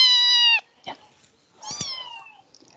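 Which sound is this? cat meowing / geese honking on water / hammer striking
cat meowing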